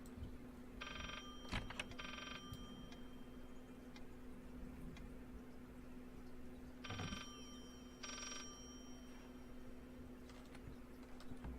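Telephone ringing in the Layers of Fear video game, two ringing bursts in quick succession, a pause, then two more, faint over a steady low hum and quiet ambience.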